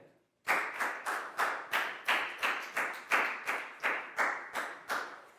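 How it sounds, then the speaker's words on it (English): Rhythmic clapping of a small group of children in a Year 4 classroom, about a dozen crisp claps in a steady beat after a brief silence, fairly close. "High five, big round of applause for Nadia."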